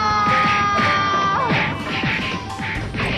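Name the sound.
default punching sound effects in Naruto anime fight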